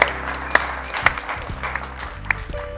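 An audience claps for a guest being introduced on a music and entertainment show, a brief burst of scattered, moderately loud clapping with a faint murmur underneath.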